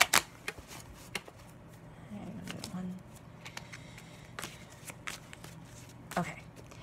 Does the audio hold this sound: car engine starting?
no